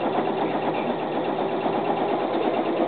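A sewing machine stitches down the length of strip-pieced quilt fabric with a steady, fast mechanical whir at close range and no talk.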